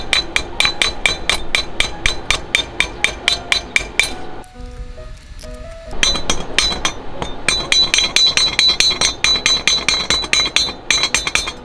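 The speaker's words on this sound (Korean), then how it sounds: "용접 망치를 통해서 이렇게 슬러그를 제거해 주셔야 돼요." A welding hammer chips slag off a tack weld, rapid sharp metallic taps striking in a steady rhythm, pausing briefly midway with a few ringing tones before the chipping resumes.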